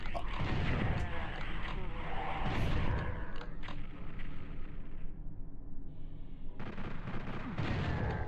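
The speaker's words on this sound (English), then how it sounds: "There's a chain gunner somewhere shooting at me." Chaingunner enemies firing in Final Doom on the PS1, dense rapid gunfire and explosions that fill the clip loudly, briefly easing near the middle before resuming.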